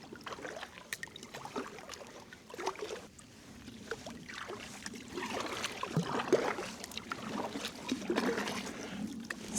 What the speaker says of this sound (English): Still paddling along